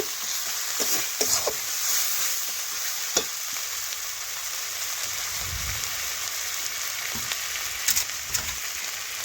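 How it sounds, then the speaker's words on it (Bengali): Ground spices with ginger, cumin, pepper and garlic paste fry in a pan for a goat tripe curry, a constant close sizzle with occasional stirring scrapes and clicks, no talking. "আমি একটু কষে নেব মশলা"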